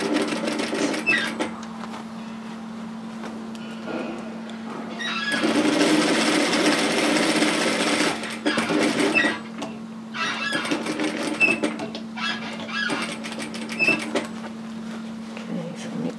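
A sewing machine runs stitching a reusable four-cup takeaway coffee holder bag, with a steady hum throughout and louder bursts of stitching between pauses, close by.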